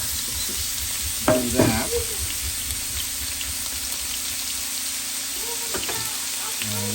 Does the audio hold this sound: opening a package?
no